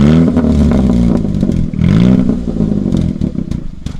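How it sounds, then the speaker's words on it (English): A manual-transmission car engine in neutral is revved up and down, close and loud, with two rising and falling surges over a rumbling idle. "Give it a little rev, baby, in neutral."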